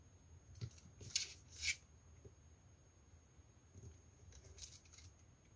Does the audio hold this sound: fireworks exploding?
no